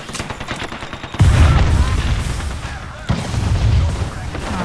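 Gunfire in the video game Apex Legends: rapid crackling shots at first, then two heavy booming bursts, loud and close, with no talk over them.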